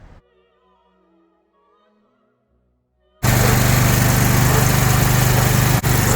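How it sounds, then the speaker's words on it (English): A petrol generator bursts into a loud, steady engine drone after about three seconds of near silence with faint tones, then runs on continuously and close with one brief dip. "So this is before the conversion, running on petrol."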